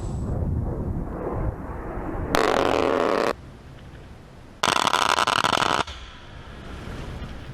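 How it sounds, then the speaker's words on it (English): A 30mm GAU-8 Avenger Gatling gun fires depleted uranium shells at about 70 rounds per second. Two loud, dense ripping bursts of roughly a second each stand out over a steady background roar. "This 30mm GAU-8 Avenger gun fires its depleted uranium shells at a fierce rate of 70 rounds per second."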